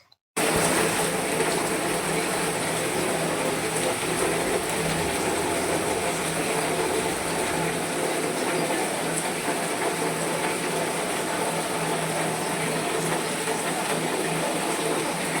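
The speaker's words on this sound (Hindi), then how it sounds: "अभी भी हो रही है बारिश" Heavy rain pouring down outside a house window, a loud continuous dense hiss that starts abruptly and holds steady throughout, with no talk.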